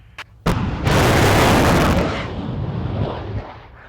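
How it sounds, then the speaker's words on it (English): Rocket-propelled mine-clearing line charge packed with 26 blocks of explosives detonating at a Japanese live-fire exercise near Mount Fuji: two sharp cracks, then a heavy roaring blast that rumbles and slowly fades. "The mine-clearing vehicles launch rocket-propelled line charge containing 26 blocks of explosives."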